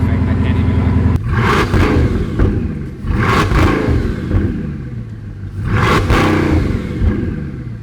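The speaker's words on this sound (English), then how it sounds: "It sounds cool because you hear the turbos" Turbocharged supercar engine revving in loud surges that rise and fall about three times, with whooshing turbo whir and rumbling low end, mostly close and alone.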